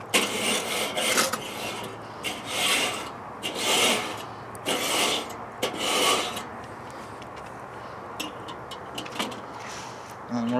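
A smoker grill is scraped clean in repeated, close, rasping strokes, roughly eight scrapes in a steady rhythm that thin out near the end, with low background noise.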